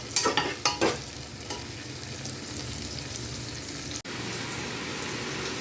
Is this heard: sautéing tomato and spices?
yes